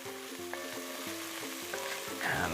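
Garlic fries and sticks in a pan for cricket chili, producing a soft sizzle with stirring beneath a stepping melodic tune that plays throughout.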